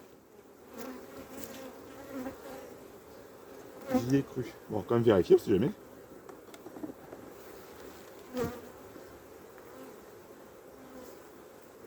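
Honeybees hum continuously at an open hive during a colony check, a steady close buzz with someone talking briefly over it.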